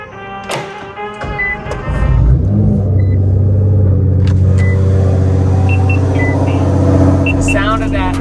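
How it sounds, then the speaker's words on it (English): Loud supercar engine under way on a test drive, a deep droning rumble that kicks in abruptly and stays heavy and close, with a person talking over it early on. "Sound of that overly loud car, and it gets louder too."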